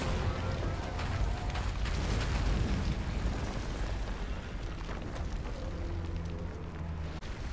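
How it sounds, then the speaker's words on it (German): Loud, continuous rumbling blasts and booming bursts from an explosive monster in Monster Hunter World: Iceborne fill the whole stretch, dense and unbroken, like a barrage of explosions. "ein Monster, das mit Explosionen arbeitet"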